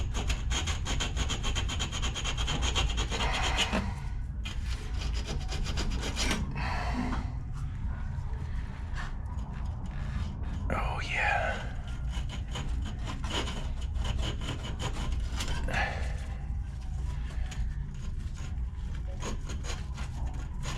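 A small battery-powered Dremel with a sanding wheel polishes a metal fitting on a walk-in cooler, giving a steady whirring, rasping grind that varies as it presses and lifts, with a brief spoken remark.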